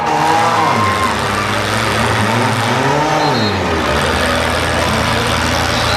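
A demolition derby car engine at a county fair in Ohio revs loudly and continuously, with rising and falling roars over the heavy, rumbling noise of other running cars close by.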